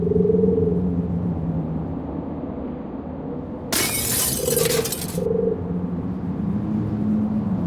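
A dusty window pane in the video game NiBiRu shatters under a rag-wrapped hand, giving one loud burst of breaking glass over a low, steady ambient drone, with a few faint tinkles after.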